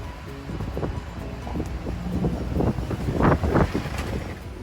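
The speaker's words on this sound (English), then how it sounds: "It just started to get windy" Wind picks up in a garden ahead of rain, gusty low rumbling buffets against the microphone that swell and ebb, peaking in a few stronger bursts with no talking.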